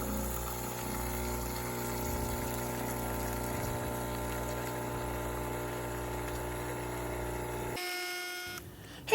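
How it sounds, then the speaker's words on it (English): A steady mechanical pump hum with hot water flushing through a Delonghi ECP espresso machine during descaling, continuous and close, cutting off near the end. "what I'm doing right now is just getting the hot water and flushing it through the system"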